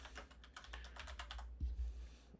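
Fast, quiet typing on a computer keyboard, a rapid run of light key clicks over about two seconds, heard close and alone.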